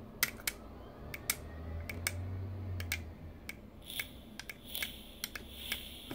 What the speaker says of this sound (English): Nice clicky button though.